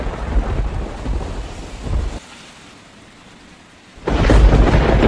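A thunderstorm with heavy rain: loud rumbling thunder and pouring rain dip to a quieter hiss for a couple of seconds, then surge back with a powerful thunder roll.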